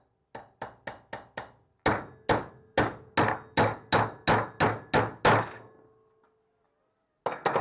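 Steel hammer blows drive a seized roll pin out of a Classic Mini door hinge clamped in a bench vise: five quick lighter taps, then about ten heavier, evenly spaced strikes, close and loud, then a short pause and two more taps.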